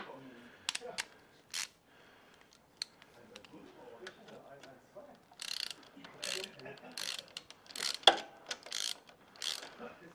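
A 10 mm wrench ratchets on a self-locking nut on an oil pump gear in a workshop, sharp clicking bursts and metallic taps with someone speaking German between them.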